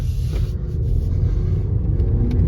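A 2022 Ford Bronco Sport with a 2.0-liter engine accelerates on a track, giving a steady, loud low rumble of engine and road noise heard from inside the cabin.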